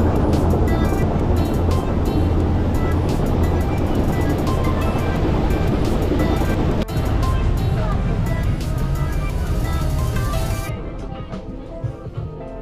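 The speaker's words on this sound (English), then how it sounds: "I'm at the back of the boat, so you can hear the motor of the boat" A loud, steady roar of a boat motor, heard from the back of the boat on Lake Ohrid, North Macedonia, mixed with rushing water, fills the whole stretch, easing off slightly toward the end.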